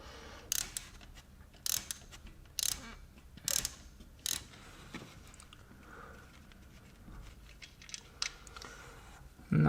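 An E-Torx socket ratchet undoes bolts on a Mercedes-Benz E500 M273 engine, giving several short, crisp clicking bursts separated by pauses, with quieter handling noises between them.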